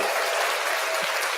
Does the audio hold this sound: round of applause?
yes